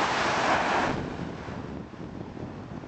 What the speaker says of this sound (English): This is Wesley's first time at the beach and his first time to see the ocean. This little boy. We're in Venice Beach